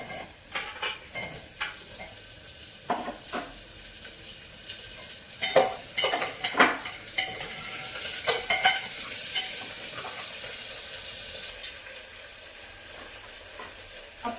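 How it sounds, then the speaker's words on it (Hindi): Onion and potato fry in a pan with a soft steady sizzle while a spoon stirs, scraping and clinking against the metal in irregular bursts throughout. "अब प्याज और आलू हल्के हल्के फ्राई हो गए"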